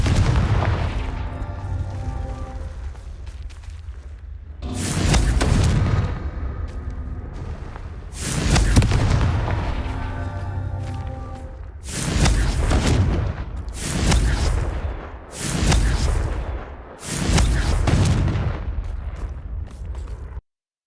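Confringo blasting spells in the Hogwarts Legacy video game: six loud booming explosions, each a sharp burst that decays over a second or two, spaced a few seconds apart over a low rumbling game backdrop.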